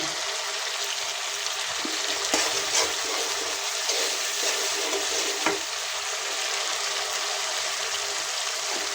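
Fish curry with big katla fish, chilli paste, salt and turmeric sautéing in a pan, giving a continuous close, even sizzle with a few faint scrapes of a spatula.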